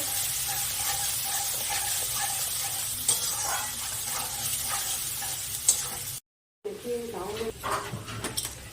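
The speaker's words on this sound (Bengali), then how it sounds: "ভালো করে মশলাটা নাড়িয়ে নেওয়া হচ্ছে।" Spice paste is stirred and fried in a pan, giving a continuous sizzle broken by scraping strokes, with a short silent gap near the end and a voice heard faintly at times.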